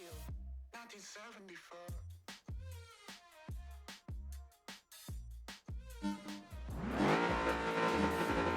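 An Ultima race car in the PGR3 racing game revs hard through repeated gear shifts, its engine rising and dropping in rapid bursts before settling into a loud sustained roar with tire noise.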